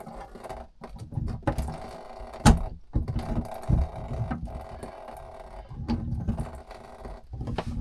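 A tool works loose the shower tap cartridge in a Swift Escape motorhome, giving close irregular clicks, creaks and metallic knocks with a few sharper clacks and no talking.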